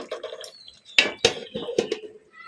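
A plate used as a lid is lifted off a pan of chicken fry on low flame, giving a few sharp metallic clinks and clatters spread over a couple of seconds at close range.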